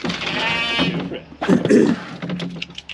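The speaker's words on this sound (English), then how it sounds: "Come on, sheeps, fill up the race." A sheep gives a wavering bleat while being herded into a race for weighing, then a thump and shuffling livestock noises follow, with a person calling out nearby.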